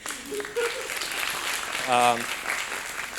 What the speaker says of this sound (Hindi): इनके लिए तालियां बजा दें